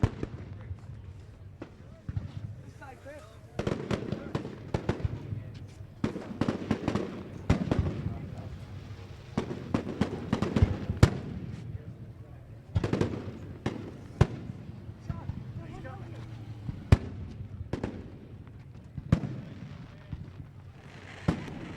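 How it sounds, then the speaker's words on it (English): Fireworks bursting over Ohsweken Speedway on a Friday race night, with repeated booms and crackles at irregular intervals, moderately distant, under a public-address announcer talking. "fireworks lighting up the skies we do every week here"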